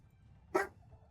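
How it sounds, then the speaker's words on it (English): A dog gives a single short bark, fairly faint and a little distant, against quiet background game sound. "Oh, Milo's barking at somebody."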